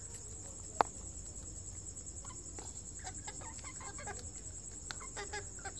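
A hen clucks softly while pecking at herbs and mint, with a sharp click near the start and scattered faint clucks and pecking sounds over a steady high insect-like hum.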